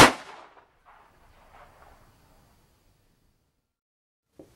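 A metal desktop puzzle assembled into a toy gun fires with one sharp, loud crack up close, followed by a short fading rattle and then near silence, with a faint click at the very end.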